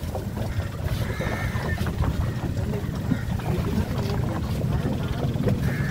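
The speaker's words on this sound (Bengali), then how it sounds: "আমরা পোগা ব্যাকওয়াটারে ঘুরতে বেরিয়েছি জলে বোটে করে।" A boat moving along the Poovar backwater in Kerala, a continuous wash of water and engine rumble with wind buffeting the microphone, fairly loud and steady.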